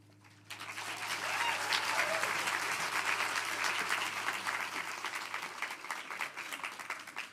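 Enthusiastic audience applause breaking out at a children's book awards ceremony in Ireland; dense clapping from a large crowd starts abruptly, swells and holds steadily for several seconds before easing slightly, with faint voices mixed in.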